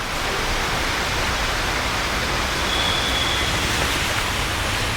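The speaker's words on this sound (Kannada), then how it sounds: "ನೀರಿನ ಶಬ್ದ ಇದೆ" Water rushes in a steady, unbroken roar at Silver Cascade Falls, filling the whole moment with dense hiss and no voices.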